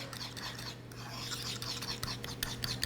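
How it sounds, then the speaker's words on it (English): A fork whisks brown sugar into batter in a bowl, producing a steady, close, raspy scraping that runs continuously. "just use a fork and kind of whisk that in there"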